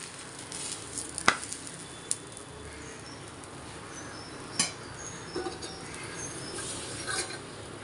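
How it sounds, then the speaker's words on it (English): A bottle gourd paratha cooking on a greased tawa: a soft, steady sizzle with a few faint crackles and pops, quiet and continuous throughout. "Now we'll place the paratha on the tawa."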